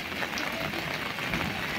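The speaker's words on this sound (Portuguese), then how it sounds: "Muita chuva, minha gente." Heavy rain with thunder nearby pours down beside a tire repair shop, making a dense, steady hiss throughout.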